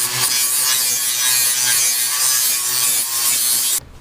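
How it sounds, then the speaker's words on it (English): A grinder grinds down the metal taillight bezels on a Mazda Miata: a loud, continuous, harsh abrasive roar held close for about four seconds, then a sudden cut to quiet, with no talking. "I'm going to go ahead and take a grinder and kind of grind down these bezels"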